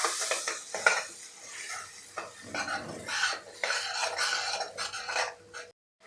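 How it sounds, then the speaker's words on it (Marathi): Ground masala paste is sautéed in a pan until the oil separates. A spoon stirs and scrapes against the metal in repeated strokes, with a soft sizzle underneath, close by and alone. "तेल सुटेपर्यंत आपल्याला परतून घ्यायचं आहे"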